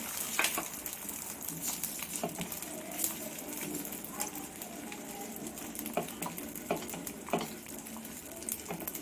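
A bread omelette cooks on a hot tawa, giving off a steady, moderately loud sizzle with small irregular pops and crackles throughout and no talking.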